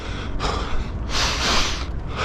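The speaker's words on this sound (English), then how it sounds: "When you do a double forceful inhale, it clears everything out." Two forceful, sharp inhales taken while running uphill on a long run in Tokyo, loud and close, with heavy breathy noise between them.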